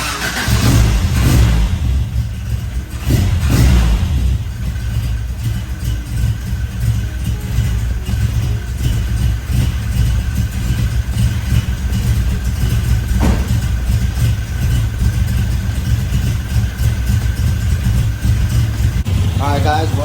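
A loud carbureted engine runs steadily close by, rumbling with a rough, uneven idle and occasional blips of revving.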